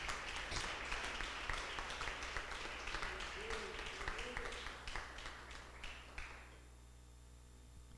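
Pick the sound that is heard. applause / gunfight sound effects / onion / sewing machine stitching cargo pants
applause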